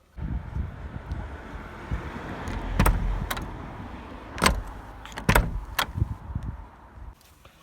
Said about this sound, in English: I think I have a short clip of me trying to open the door